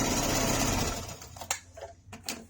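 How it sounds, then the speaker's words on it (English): A sewing machine stitching the lining seams of a water bottle sling at a quarter inch runs in a fast, steady close whir for about a second and a half, then gives a few short bursts as it slows. "take those corners, match those seams, and stitch it at 1/4 of an inch"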